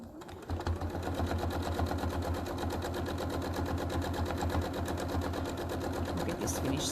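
A sewing machine runs continuously at a steady fast stitch while free-motion quilting a mug rug, a close, even mechanical chatter that starts after a brief pause and continues throughout.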